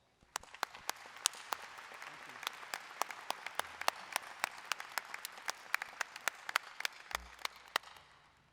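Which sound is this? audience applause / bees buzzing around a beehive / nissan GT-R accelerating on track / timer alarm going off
audience applause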